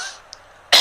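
A single sharp cough from someone outside a door, short and fairly loud, preceded by a faint breathy sound and a brief tick.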